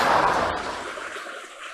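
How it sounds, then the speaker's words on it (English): A car going past on a road during an outdoor walk at Chyandour, a broad rushing swell that is loudest at the start and fades as it moves away, with no talk over it. "Car going"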